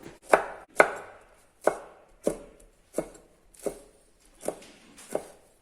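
A knife chops green chillies on a board in eight sharp, evenly spaced strokes, each a crisp thud with a quick decay, no voices.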